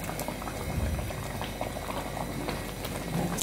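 Sweet corn veg soup thickened with cornflour boils in a pot with a continuous, close bubbling and gurgling, and no voices.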